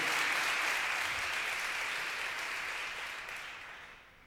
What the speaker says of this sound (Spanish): pero al dueño de casa, a don Néstor, también un gran aplauso.